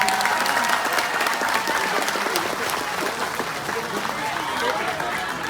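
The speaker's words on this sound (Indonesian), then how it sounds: "Tepuk tangan untuk BMI, keren ini." Sustained applause from a live audience at a religious stage show in Taiwan, a dense even wash of many hands clapping at steady loudness throughout, with crowd noise and voices mixed in.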